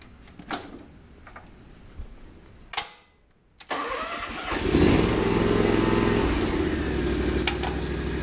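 A Toro/Exmark aerator engine cranks with a short mechanical burst, goes quiet for a moment, then catches and runs steadily and loudly close by, with a few clicks early on and no talking.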